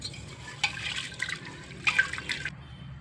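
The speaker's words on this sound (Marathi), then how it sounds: "1 वाटी डाळ घेतलेली आहे, ती कुकरमध्ये टाकून याला स्वच्छ धुवून घ्यायचे।" Lentils are washed with water in a pressure cooker, heard as soft swishing and sloshing with a few splashy bursts, faint and close, with no talking.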